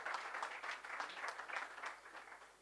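Faint applause from the audience at a symposium hall, rippling clapping heard at a distance, steady for a couple of seconds.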